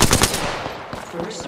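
Rapid automatic gunfire in Apex Legends crackles in a tight burst of close shots, then thins into a few scattered reports with game sounds behind.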